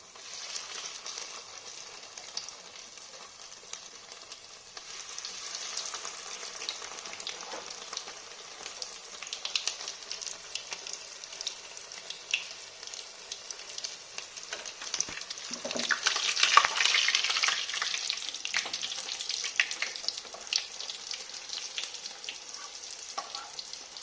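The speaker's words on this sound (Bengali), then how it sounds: "তেল আমার গরম হয়ে গেছে, এবার একটা একটা করে কাটলেট আমি ভেজে নেব।" Chicken cutlets fry one by one in hot oil, giving a steady, close sizzle with fine crackling and popping that swells louder about two-thirds of the way through, with no voices over it.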